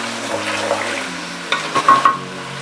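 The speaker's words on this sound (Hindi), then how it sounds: "अब हम इसमें ये मटन डालेंगे। इसे हम इतना फ्राई करेंगे कि इसका कलर चेंज हो जाए।" Mutton fries in a pan with a close, steady sizzle, and a few louder bursts of hissing and stirring near the end.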